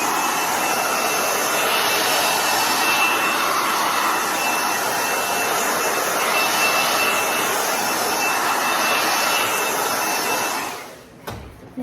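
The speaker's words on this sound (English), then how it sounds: "I'm just gonna kind of go through and with the hairdryer and blast it to get some of it dried down." A hairdryer blasts continuously to dry one-step paint on a distressed DIY frame, a loud steady broadband whoosh lasting about ten seconds before it cuts off abruptly.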